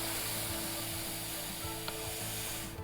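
Silica sand being worked into potting soil by hand, a steady gritty rubbing and scraping that runs continuously, with a faint steady hum underneath.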